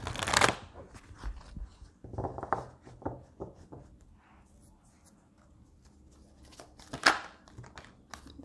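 Angel Answers Oracle cards are shuffled by hand in sharp riffling bursts and softer slides. The loudest flurries come near the start and again toward the end, with quieter rustling between them, and a voice speaks now and then.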